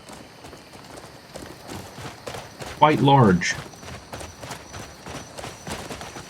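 Steady clip-clop of a horse's hooves in the video game Crimson Desert, a quick even rhythm running throughout at moderate loudness, with someone talking briefly over it partway through.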